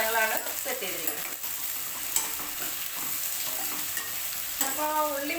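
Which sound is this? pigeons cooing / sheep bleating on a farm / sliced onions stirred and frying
sliced onions stirred and frying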